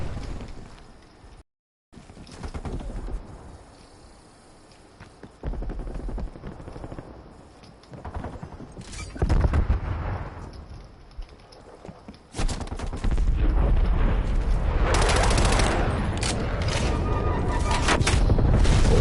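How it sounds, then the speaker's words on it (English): Gunfire from the video game Call of Duty Black Ops Cold War on PS4, with loud bursts and rapid volleys that grow denser and more sustained toward the end, alongside booming impacts. "Your teammate was shooting at me"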